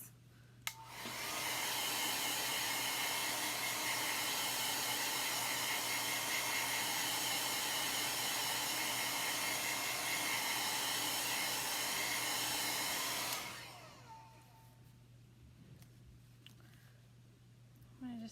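A hair dryer runs steadily for about twelve seconds, drying a chalk-stenciled Halloween spell book craft, a loud continuous whoosh with a low hum that cuts off abruptly and leaves quiet room tone.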